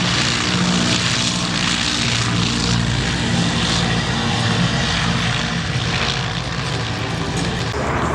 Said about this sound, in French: Voilà ce qu'était finalement l'Airbus de l'époque, le Junkers 52, le plus bel avion de ligne européen.